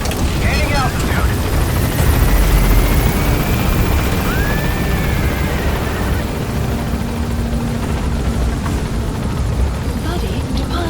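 A helicopter climbs in the video game Metal Gear Solid V: The Phantom Pain, its loud, steady rotor roar filling the scene throughout, with radio voices speaking over it.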